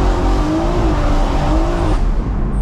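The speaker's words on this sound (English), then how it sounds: "Let's see what happens if we just accelerate flat." A 475 bhp BMW M140i Shadow Edition accelerating flat out with tyres losing traction, loud engine roar from inside the car with a rising tone and faint tyre squeal, no voices.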